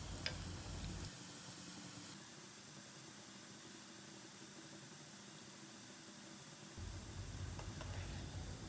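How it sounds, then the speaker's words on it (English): Boiled lotus stem (kamal kakdi) frying in oil in a karahai over a medium flame: a steady soft sizzle and crackle throughout, with a deeper low bubbling burst at the start and again near the end. "on medium flame we will fry them until they turn golden brown from all the sides"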